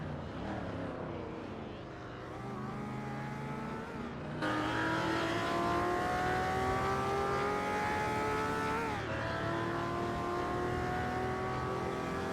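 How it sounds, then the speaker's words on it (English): Vintage supercars racing in a simulator video game, with several engines droning and revving together in a steady, loud, continuous roar that swells halfway through, and no voices. "We're currently watching the R-driven racing cars in a simulator."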